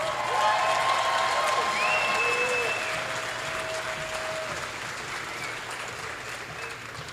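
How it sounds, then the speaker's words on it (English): Crowd applause at a country music awards show, steady clapping with a few tonal whistles or feedback tones over it, fading gradually toward the end. "Give them a round of applause"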